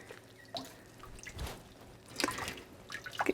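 Water dripping and trickling off a freshly bathed, wrung-out wet Aussiedoodle puppy, a few soft close drips and splashes scattered over a quiet background with no talking.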